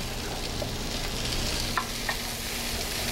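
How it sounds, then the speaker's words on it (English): About three cups of chopped onions sauté in canola oil in a restaurant kitchen, a steady dense sizzle with a low background hum and a couple of faint utensil clicks, close and continuous. "Saute them down a little bit."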